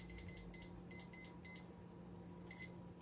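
A kitchen timer gives a run of quick, high electronic beeps in short bursts, then a pause and another burst, fairly faint over a quiet room.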